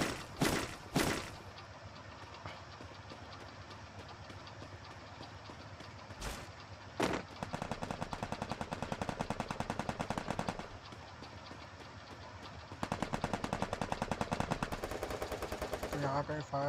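Repeated bursts of automatic gunfire from the Free Fire battle royale game, with sharp isolated shots early on, then long rapid machine-gun rattles in the middle and again near the end, loud and close.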